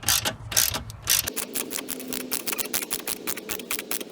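Rapid ratchet clicks tighten a 10mm bumper bolt on a Toyota Camry, a steady close run of mechanical ticks lasting several seconds with no talking.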